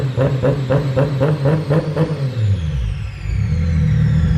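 RB26 single turbo engine running up close, pulsing in a rhythmic lumpy rev before rising into a louder, steadier roar, with no talk over it.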